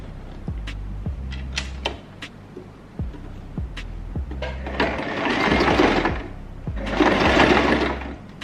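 A sewing machine stitches a zigzag pattern on a wig, starting with short separate needle thumps and then running in two longer, louder whirring bursts close by, with no talking.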